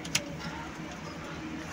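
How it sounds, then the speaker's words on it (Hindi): Three pet pigeons coo softly and continuously, close by, over a steady low background hiss with one brief sharp tick near the start. "ये तीन कबूतर है इसमें"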